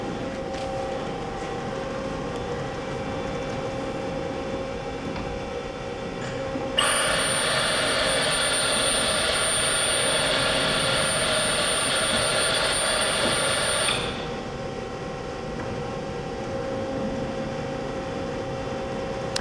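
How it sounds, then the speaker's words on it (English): AWEA 5-inch table-type CNC horizontal boring mill during a tool change, steady machine hum joined midway by a louder high-pitched whirring burst lasting about seven seconds before settling back to the hum. "We're doing another tool change."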